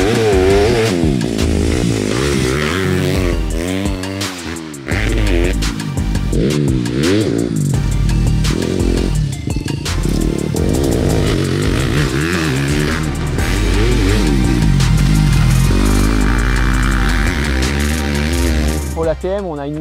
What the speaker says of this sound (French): la moto qu'on a essayée aussi, elle était très bruyante